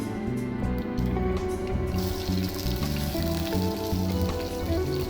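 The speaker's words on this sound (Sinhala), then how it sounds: "මේ ටික බෙදෙන්න දීලා දැන් සුදු ලුණු ටික එකතු කරනවා." Garlic sizzles in hot oil with cinnamon bark while cooking a village-style baby jackfruit curry. A soft hiss starts and then holds steady and close, mixed under background music.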